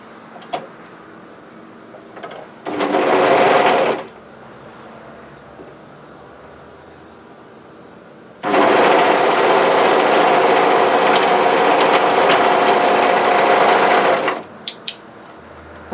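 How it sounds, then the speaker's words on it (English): Overlocker stitching the shoulder seam of a relaxed-fit sweatshirt, right sides together: a short machine burst of about a second, then a long steady whirring run of roughly six seconds, close and loud, with quiet gaps between. "come to your overlocker and we're going to start by sewing that shoulder seam"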